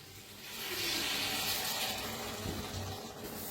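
Water is poured into a pan of brinjal and potato curry as it cooks, making a steady splashing gush close by that holds for a few seconds and eases slightly at the end.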